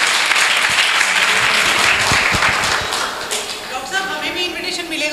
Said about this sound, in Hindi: इसलिए जोरदार तालियां।